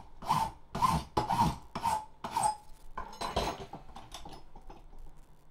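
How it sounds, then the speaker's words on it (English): Hand file rasping an aluminium blank for a PC faceplate, several distinct close strokes in a steady rhythm at first, then lighter, more scattered scraping toward the end. "Finish it up with some filing."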